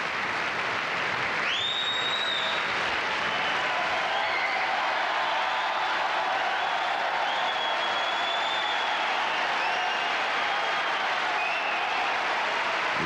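Loud, sustained applause from a large opera concert audience fills the whole stretch, with a few whistles rising above the clapping.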